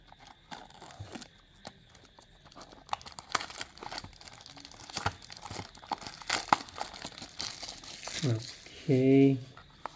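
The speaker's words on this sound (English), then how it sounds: "let's unbox and see how this one looks" Packaging crinkles and tears while a MINI GT Lamborghini Urus scale model car is unboxed, with irregular rustling throughout and a louder burst of handling near the end, under occasional talk.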